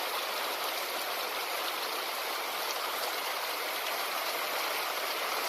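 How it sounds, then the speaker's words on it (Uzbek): Heavy rain pours down after several hot days, a dense, steady hiss of falling water filling the air evenly throughout with no voices. "Endi mana yomg'ir."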